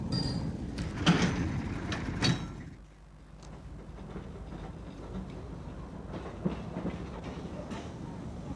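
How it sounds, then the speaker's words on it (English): A World War I vintage Simplex locomotive arrives on a narrow gauge railway, heard as rumbling rail noise with two sharp knocks early on, then a quieter steady running sound with occasional clanks. "show a simplex locomotive of World War I vintage arriving at Mean Forth"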